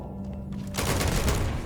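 Gunfire from a weapon in the space game Starfield, a sudden burst of loud, dense shots crashing in after a quieter stretch and continuing to the end, with no voices over it.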